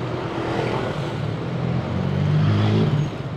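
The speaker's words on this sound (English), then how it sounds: "And here is another electric vehicle." An electric car passes along a Milan street, a smooth rising and fading tyre-and-road whoosh amid steady city traffic hum, moderately close and with no talking.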